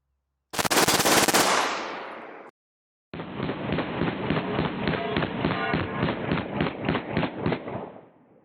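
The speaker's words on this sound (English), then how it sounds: "You guys should be able to see me firing it full auto, just a different string" A Glock 17 firing full auto at a Level IIIA ballistic blanket, one loud burst of about two seconds, a short pause, then a longer rapid string of shots, close and harsh.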